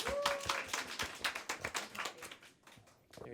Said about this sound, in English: hashtag welcome her with applause.